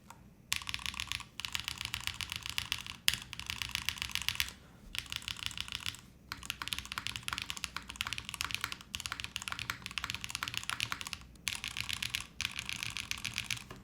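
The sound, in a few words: typing on Neo65 mechanical keyboard with Eclair switches, GMK keycaps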